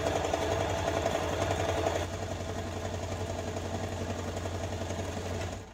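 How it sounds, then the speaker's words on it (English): A sewing machine runs a chain stitch across pieces of a cap, a steady fast mechanical chatter that drops slightly in pitch and level partway through before stopping at the end. "I'm just gonna keep sewing."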